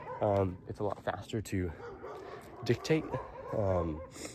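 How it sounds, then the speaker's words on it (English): Dogs bark and yip in short bursts mixed in with a man's speech, the barks sharp and fairly close but partly covered by the talking. "Sorry for the barking dogs."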